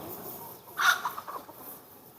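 Desi chickens on a rural farm give a short burst of clucking near the middle, a few quick calls over a quiet outdoor background.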